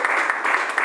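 A church congregation at a Portuguese-language sermon bursts into brief, loud, even clapping from many hands, lasting under a second.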